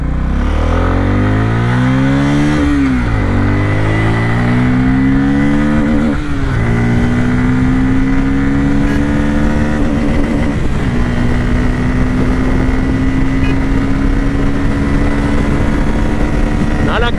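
A Bajaj Pulsar N250 motorcycle revs hard and accelerates at speed, its loud engine note climbing through the gears with shifts and steady wind roar close by.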